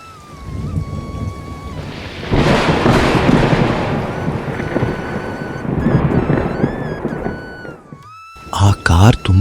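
A heavy downpour with rumbling thunder swells into a loud roar, mixed with music and a narrator's voice in a dramatized rural story scene.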